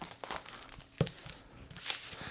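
A sealed, plastic-wrapped comic book pack being opened, with crisp crinkling and a sharp tearing burst midway, close and fairly quiet, no talking.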